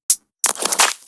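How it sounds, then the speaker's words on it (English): A processed snare clap drum sample from an electronic drum track: a short sharp snap followed by a longer, dense, crackly burst with a ragged tail, loud and dry with nothing else behind it. "So the snare clap whatever here sounds like this."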